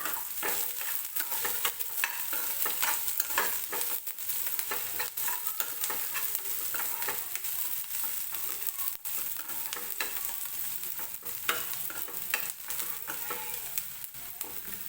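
Slit green chilies and onions fry in a pan for potato kurma, with a continuous loud sizzle and frequent scraping stirs of a spatula across the metal surface throughout.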